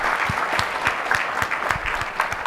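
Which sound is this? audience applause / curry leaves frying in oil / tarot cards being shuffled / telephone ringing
audience applause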